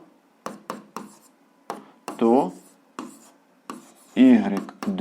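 A pen scratches out short, quick strokes on paper during a 7th-grade algebra lesson, the scratching coming in brief bursts between stretches of someone talking.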